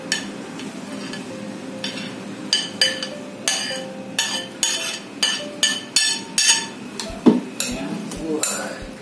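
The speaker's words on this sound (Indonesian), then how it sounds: "ini semua bumbu rajang kita masukkan ya, kita aduk semuanya" Chopped seasoning for Indonesian pepes ikan kembung (steamed mackerel) is stirred in a bowl, giving a rapid series of sharp clinks and scrapes at close range, around a dozen strokes in a steady rhythm.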